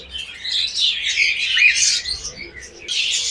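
Pet birds in a bird shop, pairs of pied cockatiels, giving loud, close, continuous squawks and chirps that overlap one another with no pauses.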